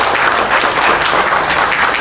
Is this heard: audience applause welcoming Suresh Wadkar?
yes